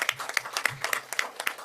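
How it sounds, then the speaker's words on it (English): A conference audience at a regional dialogue on ocean-based climate action in Bangkok gives a brief round of applause, with individual claps distinct and fairly close in a loose, uneven patter. "I think we can all give them a round of applause."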